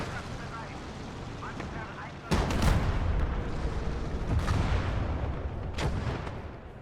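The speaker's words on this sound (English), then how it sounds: "now we're throwing nades into the hedgerow" Several heavy grenade blasts go off in the Gates of Hell video game, a sudden loud boom followed by further rumbling detonations over a dense, noisy battlefield background.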